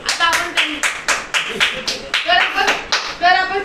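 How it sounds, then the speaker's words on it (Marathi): A small group claps for a student in a rhythmic run of sharp, evenly spaced claps, close and loud, with children's voices chattering between and over the beats. "अर्णव भाईंसाठी जोरदार टाळ्या झाल्या पाहिजे"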